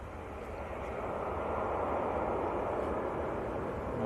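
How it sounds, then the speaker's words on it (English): Dassault Falcon 7X tri-jet on final approach to Manchester Airport, a steady broadband engine roar holding at moderate level throughout with no talk. "we've got a Falcon 7X on finals"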